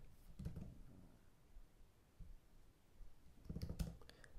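Typing on a computer keyboard, heard as two short, quiet bursts of rapid clicking keystrokes separated by near silence.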